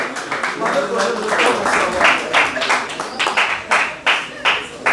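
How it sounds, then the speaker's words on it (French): An audience claps for a graduate at a radio internship certificate ceremony, uneven bursts of hand claps with audible individual strikes, mixed with voices talking over them. "Est-ce qu'on peut applaudir très fort pour elle, s'il vous plaît?"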